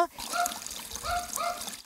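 Water leaks and trickles from a broken water pipe on a street in Heraklion, a steady close splashing wash with faint voices mixed in.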